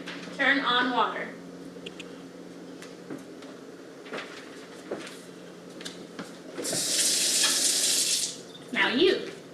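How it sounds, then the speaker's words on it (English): A water tap turned on runs into a sink for a couple of seconds with a bright, steady splashing rush. A person speaks briefly before and after it in a quiet room. "Megan, turn on water."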